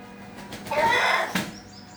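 Backyard chickens, a rooster and hen kept at home, give a short, close clucking call that swells and fades over a quiet background.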